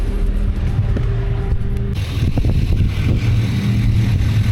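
A 2026 Chevrolet 3500 pickup with a Duramax diesel and Allison transmission idles close by, a steady low rumble that continues throughout, with a faint clunk partway through.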